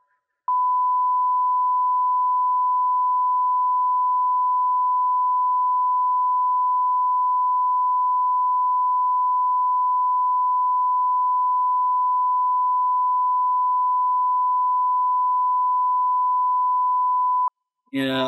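A pure tone from a phone app holds perfectly steady for about seventeen seconds, loud and unbroken, then cuts off abruptly as a voice begins to speak.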